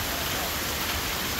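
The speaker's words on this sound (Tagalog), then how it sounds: "Basa kami. Lakas ng ulan." Dense, steady roar of heavy rain with large hail and strong wind, a continuous broadband wash with no pauses, loud and close throughout.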